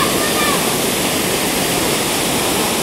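Large waterfall in Santa Maria, Laguna, roaring as a loud, dense, unbroken rush of falling water heard up close, with speech buried under the roar.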